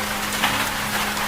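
Heavy rain falls steadily, a continuous dense hiss with no distinct drops, over a faint low hum.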